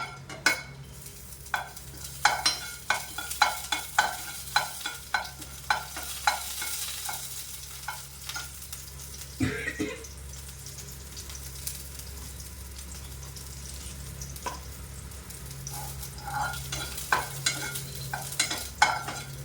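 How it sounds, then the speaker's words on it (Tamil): Lump asafoetida frying in hot oil, a continuous sizzle punctuated by repeated sharp spatula taps and stirring clatter against the pan, busy at first, then quieter before more taps near the end. "இதில் வந்து கட்டி பெருங்காயம் கொஞ்சமாக போடுறேன். இது கொஞ்சம் நல்லா பொரியணும்."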